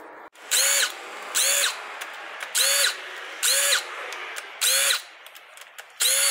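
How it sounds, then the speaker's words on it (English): Power tool, likely a drill or impact driver, whirring in six short, evenly spaced bursts while removing the rocker cover from a Mitsubishi Triton 2.5L 4D56U diesel engine during a teardown. The bursts are close and loud, with quiet pauses between them. "and then we'll whiz off that rocker cover."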